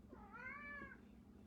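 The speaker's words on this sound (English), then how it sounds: "Here comes the cat." A pet cat gives a single drawn-out meow, fairly close, rising and falling over about half a second against a quiet room with a low steady hum.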